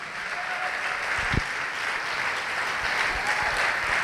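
A church congregation applauds together in a steady, even patter that lasts several seconds at moderate volume, with no speech over it.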